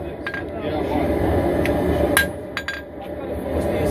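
A hammer strikes hot steel while a dagger is forged, giving a few sharp clinking blows over a dense workshop rumble, with a voice talking at the same time.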